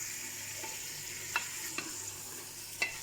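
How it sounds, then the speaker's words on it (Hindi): Mutton and onions frying in a pot while being stirred, giving a quiet, soft sizzle with a few light clinks of a utensil against the pot. "प्याज पिंकिश ब्राउन हो जाने के बाद मैं इसमें गोश्त ऐड कर चुकी हूँ। इसे अच्छी तरह से अब मिक्स करूँगी।"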